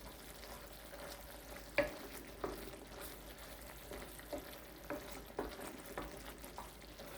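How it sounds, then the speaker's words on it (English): Meatball sauce made with beef broth is stirred in a pan, a faint steady simmering sizzle broken by soft, irregular scraping knocks of the spoon, with no voices. "I just want to stir it a little bit more, just to get the meat involved, the flavor of the meat into the sauce"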